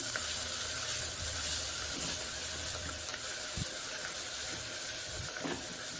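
Onions and tomatoes sautéing in a pan for fish curry, a soft, steady sizzle with occasional stirring scrapes and a single sharper knock, heard fairly quietly throughout.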